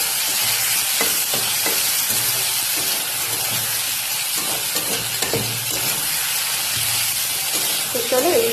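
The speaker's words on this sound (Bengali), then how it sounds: "এখানে আমি ফুলকপি আর আলুটা দিয়ে দিচ্ছি। এখন এইগুলোকে একটু হালকা করে ভেজে নেব।" Cauliflower and potato fry in a pan with a constant, loud sizzle, broken by repeated scraping and stirring knocks, and a brief voice comes in near the end.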